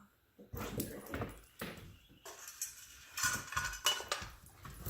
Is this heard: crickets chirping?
no